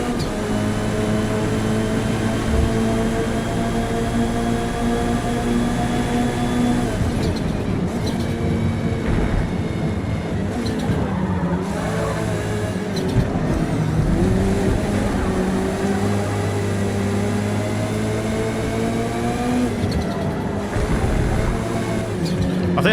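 Touring cars race in Forza Motorsport with a steady, close engine howl that climbs and falls between gear shifts, punctuated by brief braking dips and nearby cars roaring past.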